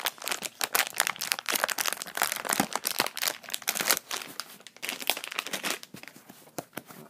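A crinkly plastic bag of hickory smoked jerky being cut and torn open, with dense, continuous close-up crackling and crumpling, loud and unbroken.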